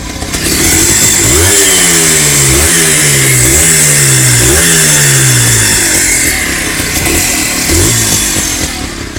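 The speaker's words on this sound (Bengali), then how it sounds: "এবার আমরা একটু ইঞ্জিনের পার্ট থেকে সাউন্ডগুলো শুনি।" A Honda motorcycle, a CD200 Road Master or H100S CDi, revs loud and close, its engine swelling through several repeated throttle blips in steady rhythm before settling back to a rough idle.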